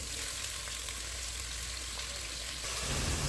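Chopped onion and garlic frying in half a cup of oil in a pot for duck curry, a steady close sizzle with continuous crackle that swells louder near the end.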